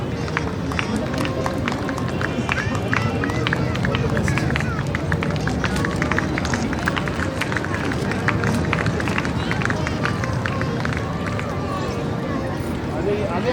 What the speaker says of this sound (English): Applause is well needed from you